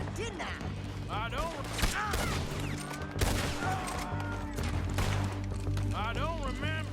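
Gunshots ring out in Red Dead Redemption 2, with several sharp cracks and a heavy blast near the middle, mixed among in-game character voices shouting and talking.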